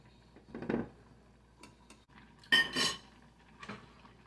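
Food pantry turkey tetrazzini ingredients are stirred in a hot pan, a few quiet scrapes and metallic clinks of a utensil against the pan spaced out over a few seconds.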